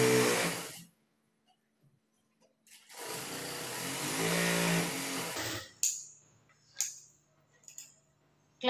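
Sewing machine stitching fabric, short bursts of fast whirring and rattling, one longer run of a couple of seconds between brief stops, close and fairly loud.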